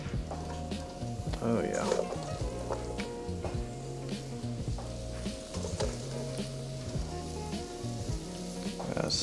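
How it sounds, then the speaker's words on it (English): Sausage, onions and peppers sauté in a pan with a steady, close sizzle, while a person talks briefly over the continuous frying. "we're gonna just add these in, saute them up"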